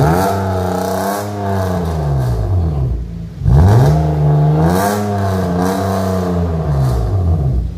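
A BMW E36 with a muffler delete and Rush exhaust revs loudly up close, its engine note rising and falling through two long pulls with a brief drop between them. A raspy exhaust crackle rides on top of the revs.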